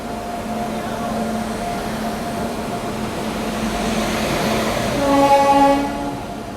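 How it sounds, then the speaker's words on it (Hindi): Special passenger train on a dedicated freight corridor pulling in behind a WAG9 electric locomotive, a low steady rolling rumble that swells as it nears, with a loud sustained horn blast near the end. "यहाँ पे अराइवल हो रहा है अपनी स्पेशल ट्रेन का"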